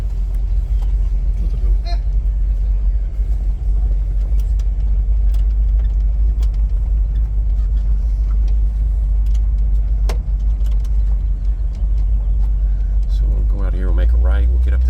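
A restored 1960 Chevrolet Impala with a three-speed automatic drives on an open road, its steady low engine and road rumble filling the clip, with someone talking over it throughout.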